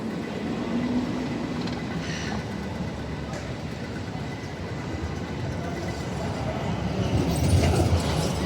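Melbourne tram rolling along street tracks in the busy city centre, a rumbling, clattering passage with wheel noise swelling toward the end, set in street ambience with voices nearby.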